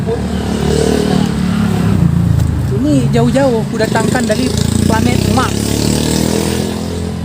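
A grass cutter's engine runs rough and sputtering, a droning, uneven motor rumble with irregular revs, close by, while someone talks over it throughout.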